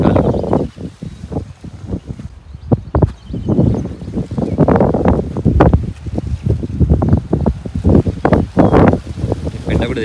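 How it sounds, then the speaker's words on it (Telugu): Strong wind buffets the microphone on a farm in the rainy season, a loud, gusty rumble with rustling plants, while people talk over it. "గాలి ఎక్కువ ఉంది, వర్షాకాలం కదా"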